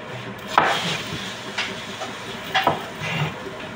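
Hot cooking oil hisses and sizzles in a pan, a continuous close crackle with a few louder spits and pops.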